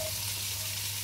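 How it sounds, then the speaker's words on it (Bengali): Egg and shrimp fry together in a single karahi, giving a steady, close sizzling hiss that holds evenly for about a second with a low background hum and no voices. "একসাথেই ভাজতেছি, এক কড়াইতেই ভাজতেছি।"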